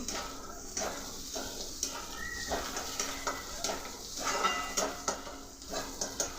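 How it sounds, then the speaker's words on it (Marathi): Onion tossed with onion-garlic masala in a pan: a soft, steady sizzle under repeated scraping strokes of a spoon against the pan, quiet and close, with no talking. "आता हे सगळं व्यवस्थित असं मिक्स करून घेते मी"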